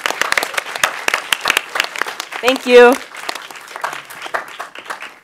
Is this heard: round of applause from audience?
yes